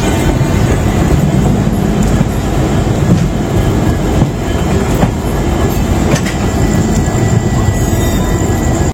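An Indian train with WAP4, WAP7 and WDG4 locomotives rumbles past close by, a loud steady roar of wheels on rails with faint clacking throughout.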